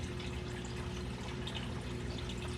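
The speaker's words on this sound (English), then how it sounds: "So we'll just go around a little bit and siphon out some sand" A gravel siphon draws water and sand from a baby alligator snapping turtle tank, making a constant close gurgling, rushing flow with a low steady hum beneath, unbroken and without speech.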